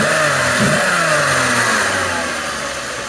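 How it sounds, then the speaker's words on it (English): A VW VR6 12-valve engine revs after a spark plug change, one loud rising-and-falling rev held over the idle, close and without talk. "Give her a rev."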